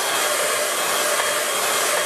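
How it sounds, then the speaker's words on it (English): A hand-held air dryer blows steadily over wet watercolour paint on a painting of Loch Awe in Argyll and Bute, Scotland, giving a loud, close, continuous broadband whoosh with no talking. "I'll give it a quick dry with the air dryer"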